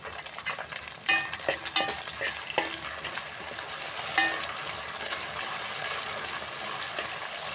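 Curry leaves drop into hot oil with browned onions for a fish curry, giving a quieter spitting sizzle with several sharp crackles and stirring knocks early on that settle into a softer steady frying hiss, without talk.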